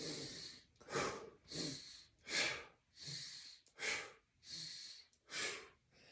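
Breathing during a kidney exercise, seven or eight soft, close breaths alternating inhale and exhale in an even, slow rhythm, quiet and alone.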